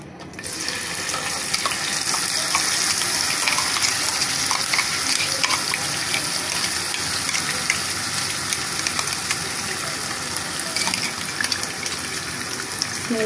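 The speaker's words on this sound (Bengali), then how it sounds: "এখন আমি জাস্ট মশলাটা দিয়ে দিচ্ছি।" Homemade masala spice paste going into hot oil in a pan for a roast, a continuous loud sizzle and hiss with stirring scrapes throughout, no voices.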